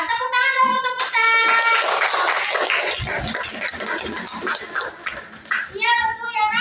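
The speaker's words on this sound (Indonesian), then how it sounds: "Tepuk tangan dong untuk Musa" Children in a primary school classroom clap together for a classmate, a few seconds of mixed hand claps sandwiched between a teacher's voice speaking before and after.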